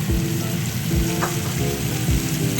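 A garlic, chili oil, lime juice and rice wine vinegar ramen sauce simmering in a pan, giving a close, continuous sizzling crackle with a faint low rumble underneath.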